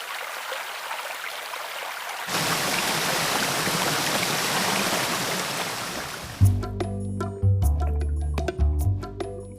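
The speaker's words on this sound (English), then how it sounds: "The river has currents" River water rushes in a steady broadband wash, preceded by a quieter stretch and giving way to music with struck notes near the end.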